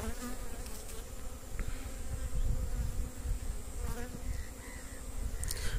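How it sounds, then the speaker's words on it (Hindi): Honey bees swarm and buzz around an open hive box at an apiary, a dense, continuous drone that stays steady and close throughout with no talking. "अभी ये रानी मधुमक्खी खोज रहे हैं"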